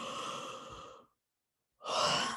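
Slow, deep breaths during a guided healing session: one long, audible exhale fades into a pause of silence, followed by a strong, breathy inhale, close and alone with no talking.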